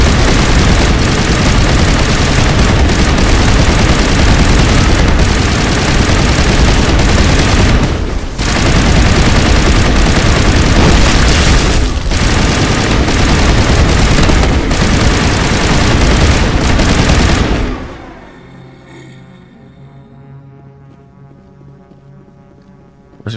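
Sustained automatic gunfire from the player's weapon in Mass Effect Legendary Edition, a loud, dense, continuous roar of rapid shots with two brief pauses, ending abruptly and leaving a faint ringing tail.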